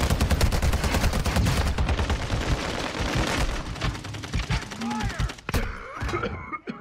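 Dense, rapid gunfire in Call of Duty Warzone 2.0 Resurgence on Ashika Island. Close shots crackle in quick bursts with a few sharp reports near the end, and faint voices mix in.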